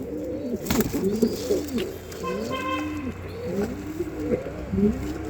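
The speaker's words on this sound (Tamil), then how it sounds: "தரமான புறா." Pigeons in a loft cage coo repeatedly in soft, overlapping rolling calls close by, with faint background noise.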